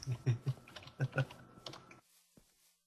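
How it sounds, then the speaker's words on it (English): Fingers tap quickly on a computer keyboard in an uneven burst of clicks for about two seconds, close and clear, then stop and leave near silence. "I'm typing words."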